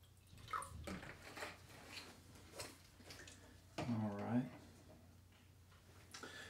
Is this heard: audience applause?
no